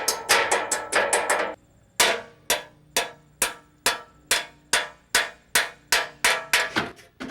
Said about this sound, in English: There's a pin right here that we're going to drive in